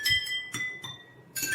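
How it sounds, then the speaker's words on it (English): Jal tarang of water-filled glasses struck one after another, giving four or five bright, clear pitched glassy tings with gaps between, faint and alone. "You can try it at home and make the Jal Tarang like that."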